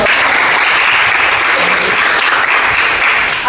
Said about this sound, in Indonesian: Ya, kasih tepuk tangan dong.